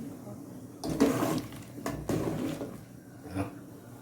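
Thai curry with catfish and mixed vegetables boiling in a pot, a bubbling rumble in uneven surges with nearby voices talking over it.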